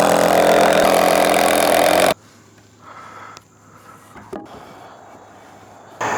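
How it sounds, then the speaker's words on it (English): Screws driven with a power driver into a rafter while building a wooden shed, a loud continuous whirring burst for about two seconds, then quiet workshop background with a few faint knocks. "then I can put the rest of the screws in to hold this in place."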